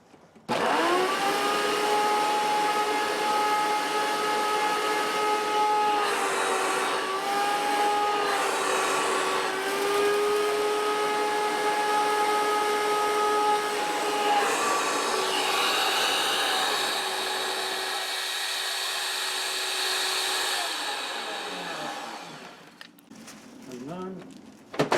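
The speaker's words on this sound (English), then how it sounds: "Turn on the vacuum." A Hoover upright vacuum cleaner with a bad belt runs steadily at close range, a loud droning motor whine that shifts pitch slightly, then winds down near the end.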